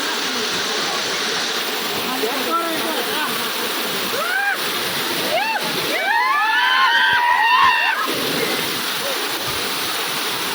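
BilPudi waterfall pours in a constant broadband rush of falling water, with voices and high chirping sounds breaking over the roar in the middle.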